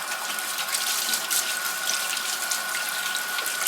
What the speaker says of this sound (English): I'm gonna wash up my hands real quick again